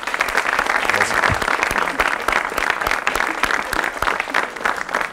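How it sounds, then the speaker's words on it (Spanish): A television studio audience applauds Padre Martín on Jaime Bayly's live show, with sustained, even clapping from many hands filling the room for several seconds at a steady level. "Un aplauso para el Padre Martín."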